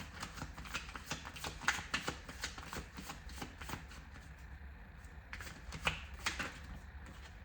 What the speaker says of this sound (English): I would like to kind of draw a card to kind of usher us into this